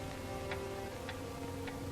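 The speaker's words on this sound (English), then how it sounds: "The ticking of the clock," A clock ticks in a quiet room in a 1944 comedy-mystery film. The soft, evenly spaced ticks come about every half second over a faint steady background hiss.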